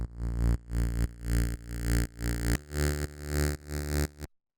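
Mid bass synth layer made from a single saw wave in Operator with no other oscillators, pulsing in a steady rhythm of sustained buzzy notes, changing pitch partway, then stopping abruptly.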